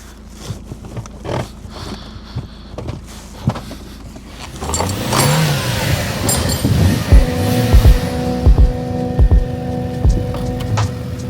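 A 2003 Audi TT with a 1.8 litre turbo engine starts up after quiet handling noises, then idles with a steady rumble and a few revs close by.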